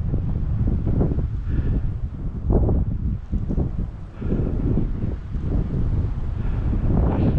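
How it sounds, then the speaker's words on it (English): Strong wind gusts rush over a mountain trail on Moosic Mountain Preserve, buffeting the microphone with a loud, continuous low roar that swells and dips. "all this wind just rides over these mountains."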